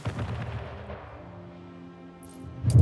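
Low booming ship cannon fire in the video game Anno 1800 rumbles through a game soundscape, a heavy blast opening the clip and another loud boom building at the end.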